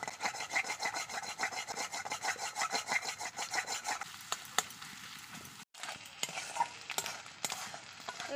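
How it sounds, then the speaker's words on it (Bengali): Eggs frying in a pan with flour dough: a steady hiss and scraping stir close by, with a brief gap near the end before the sizzling resumes. "এই যে ডিম কিন্তু আমার লাল লাল করে ভাজা হয়ে গেছে।"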